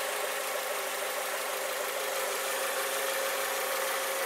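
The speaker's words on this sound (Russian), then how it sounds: "послушать мотор" A Lada Vesta SW Cross engine idles steadily with a constant low hum and faint mechanical ticking, close by and uninterrupted, with no voices.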